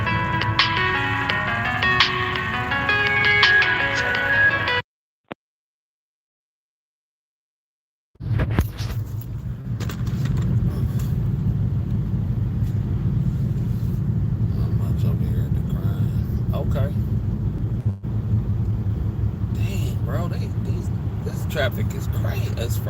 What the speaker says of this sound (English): Traffic is crazy. It's Friday.